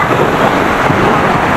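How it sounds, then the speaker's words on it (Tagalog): Heavy typhoon rain pours steadily in the Philippines as floodwaters rise, a dense, loud wash of drops with a low rumble beneath, continuous and close throughout. "Buong araw ba naman yung ulan?"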